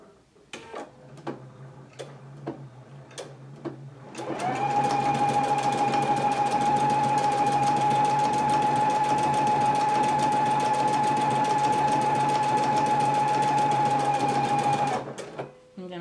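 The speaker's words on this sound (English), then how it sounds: "So let's go ahead and do a seam overcast." A Husqvarna Viking Epic 980Q sewing machine with presser foot J runs a steady overcast seam, a loud continuous whirring hum with a fine rapid stitching rattle lasting about ten seconds, preceded by a few faint clicks and followed by a sudden stop.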